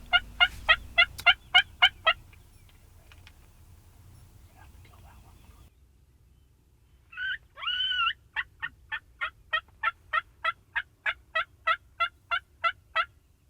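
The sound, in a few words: wild turkeys gobbling in a pasture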